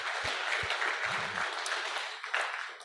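Audience applause at a company annual general meeting, a sustained wash of clapping from a crowd that holds steady for about three seconds with a few louder individual claps.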